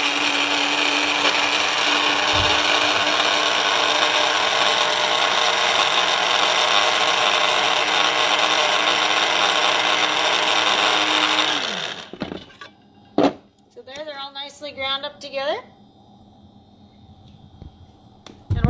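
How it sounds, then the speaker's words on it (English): A coffee grinder grinding chia and flax seeds whirs loudly and steadily for about twelve seconds, then cuts off, followed by a few clicks, rattles and brief scraping sounds. "I put them in a coffee grinder"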